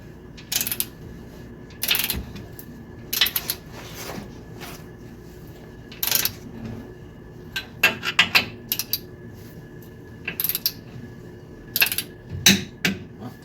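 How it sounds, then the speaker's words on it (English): Nuts are tightened in a crisscross pattern, giving scattered sharp metallic clicks and short ratcheting bursts at irregular intervals over a low steady background, close and moderately loud. "I do a crisscross because you don't want to tighten it more on one side than the other,"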